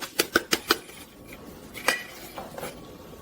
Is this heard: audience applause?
no